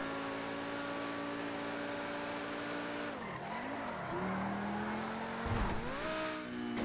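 Pagani Zonda Tricolore supercar engine in GTA 5, a steady high revving drone that dips and rises through gear changes, with brief tire squeal near the end, loud and close with no talk.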